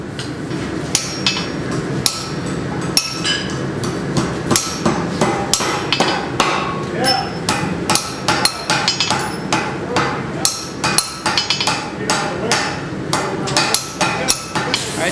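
A blacksmith at a forge hammers hot metal on an anvil, sending out a rapid, steady stream of loud, sharp metallic strikes close by. A few heavier blows stand out among them, and no talking is heard.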